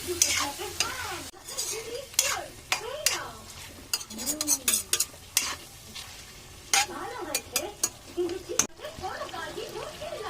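Meat cooking with dried chillies and spices in a pan, a spatula scraping and stirring through sizzling oil in uneven bursts, close and clattery, with occasional voices talking over it.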